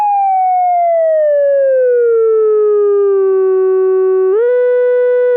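A single sustained MiniBrute synthesizer tone with Brute Factor overdrive distortion, a buzzy, harmonically rich edge, its pitch gliding slowly downward before jumping up sharply near the end.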